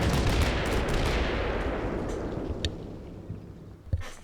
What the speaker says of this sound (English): That grenade that took out those couple of infantrymen is answered by the pounding artillery.